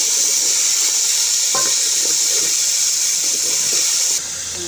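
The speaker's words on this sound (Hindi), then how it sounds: "शोर बहुत आता है, इसको मैं ज़रा फ्राई कर लूँ" Chicken fries in a hot pan with a steady, loud hiss and sizzle, broken by a few soft clatters, close and continuous before the sound drops to a quieter hiss at the end.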